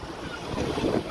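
A speedboat racing at full speed off Shivrajpur beach near Dwarka, its steady engine roar blended with rushing wind and water, loud and close throughout.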